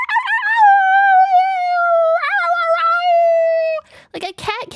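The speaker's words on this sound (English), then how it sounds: "Cat making weird noises?" A cat makes high, yappy, dog-like howling whines, like a small chihuahua or terrier, in one long wavering call followed by short sharp yips near the end.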